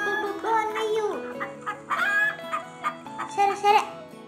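A chicken clucks and calls in a run of short, close bursts, clear and fairly loud, with a voice and some giggling mixed in.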